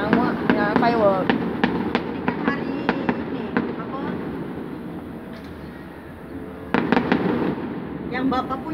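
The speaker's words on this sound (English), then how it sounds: "Kami ada tengok itu yang firework" Fireworks pop and crackle in rapid bursts, sharp and fairly close, thinning out midway and then flaring again, with people talking over them and a steady rumbling background.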